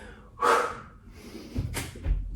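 Forceful, breathy exhale through the mouth during a yoga HIIT workout, one loud burst followed by fainter breaths and a couple of low thumps, with no talking.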